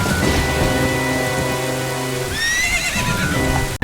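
Horse neighing in the rain in the video game Ocarina of Time, a loud rising whinny near the end over steady rainfall and a low rumbling backdrop.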